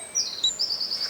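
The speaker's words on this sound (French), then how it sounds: "Mais combien t'as d'oiseaux sous ta toiture?" Small birds nesting under a house roof give repeated high chirps in a quick, steady series, fairly close and moderately loud against faint background hiss.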